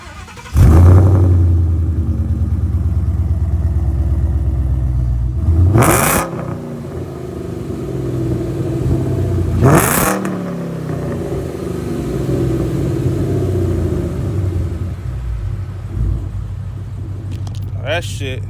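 A loud car engine with a full exhaust system and a deep, throaty exhaust rumbles steadily and is revved sharply twice, with brief bursts of talking nearby.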